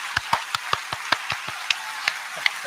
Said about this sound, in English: Let me give a round of applause.